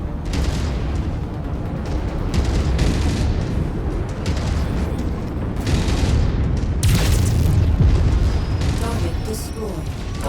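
Heavy booming combat in MechWarrior 5: Mercenaries as a target mech is destroyed, with dense low rumbling blasts and gunfire sustained loudly throughout, a sharper burst near the end, and radio chatter mixed in.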